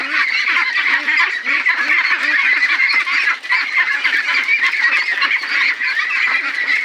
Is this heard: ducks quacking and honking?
yes